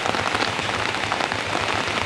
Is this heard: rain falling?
yes